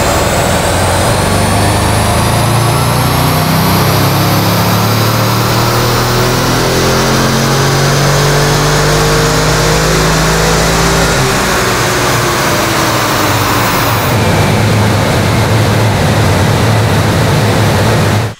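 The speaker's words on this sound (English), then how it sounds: "let's head to Performance Logic and we'll see how the car does on the dyno" An Audi RS6 with its silencer deleted, run on a dyno, gives a loud sustained engine roar that climbs steadily in pitch through the gears for about fourteen seconds before it drops off sharply.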